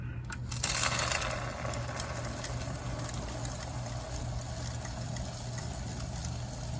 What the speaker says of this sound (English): dump that material out of the tipple and into my gondola car